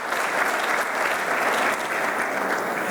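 An audience at a QS Stars rating ceremony in Bahrain gives a sustained round of applause, dense and steady clapping that fills the room for the whole stretch with no voices on top.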